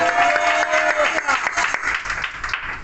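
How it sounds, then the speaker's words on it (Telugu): Church congregation applauding during a Telugu Bible sermon, many hands clapping in a steady roar with a faint tonal hum beneath, loud and fairly close, with some voices mixed in. "గట్టిగా చప్పట్లు"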